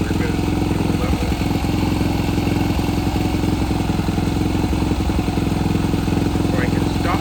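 Kayo MR125 mini-GP racebike's small single-cylinder engine idles steadily with a constant buzzing, slightly uneven putter, close by and continuous throughout.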